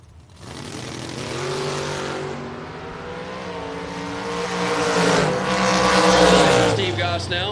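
A Barracuda and a Camaro drag race, engines building from a low rumble into a loud, rising roar with a strong surge near the end as the cars launch and pass close by, with voices faintly underneath.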